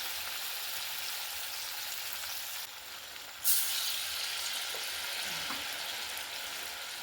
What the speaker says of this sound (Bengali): মাঝারি আঁচে আস্তে আস্তে ভেজে নেব